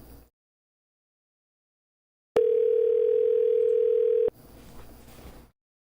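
A single steady telephone tone sounds loud and clear for about two seconds during an outgoing call, set between stretches of near silence and followed by a fainter recorded voice.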